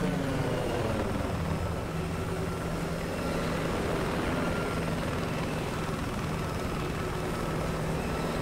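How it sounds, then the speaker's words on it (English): A jet aircraft in the Battlefield 4 video game roars past in a steady, loud engine rumble that fills the whole stretch without a break, with no talk over it. "I think that's that fucking jet behind"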